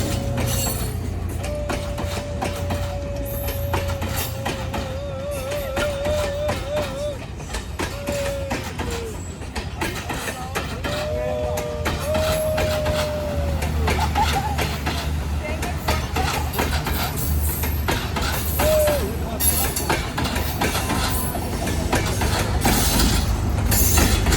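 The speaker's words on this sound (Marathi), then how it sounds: "हे बघा मस्त पैकी ट्रेन जाते इकडे" A train rumbles past close by with a steady low roar, occasional wheel squeals rising above it, while people talk over the noise.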